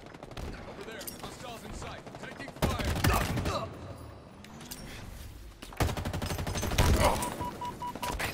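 Gunfire in a Halo Infinite multiplayer match, sharp rapid bursts of shots in clusters, loud and close, with pauses between volleys and game callouts in the background.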